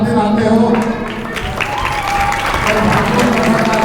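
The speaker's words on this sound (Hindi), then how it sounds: "आप लोगों के लिए भी मैं कहूँगा एक बार खुद भी तालियां बजाएं" Dense applause from an audience at a Bhagavat Katha religious discourse fills the clip, steady and fairly loud throughout, with some background voices and a sustained tone beneath.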